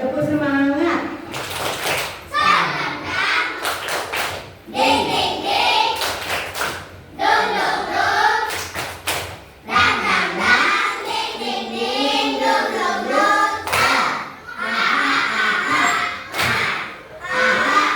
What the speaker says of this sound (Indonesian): coba ibu berikan dulu tepuk semangat